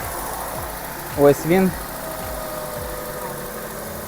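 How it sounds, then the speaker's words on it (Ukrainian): A car engine runs at a steady low idle after starting, with a brief voice speaking over it partway through, while a battery analyzer tests cranking. "Зараз ми заведемо двигун."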